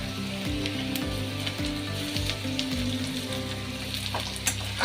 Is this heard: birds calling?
no